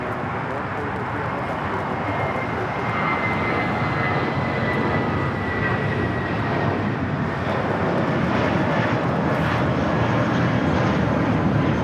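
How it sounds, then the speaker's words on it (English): A United Airlines A320 takes off from LAX bound for Puerto Vallarta, a loud, steady jet roar that holds without a break throughout. "This is United Airlines 319 taking off to Puerto Vallarta on the A320."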